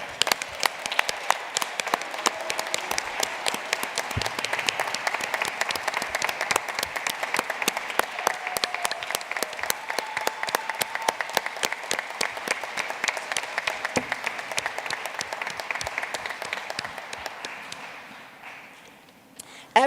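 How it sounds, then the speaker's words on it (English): Audience at a doctoral commencement applauding the graduating doctoral cohort: sustained, dense clapping from a large crowd with sharp individual claps standing out, continuing steadily before tapering off near the end. "Let's give them a round of applause."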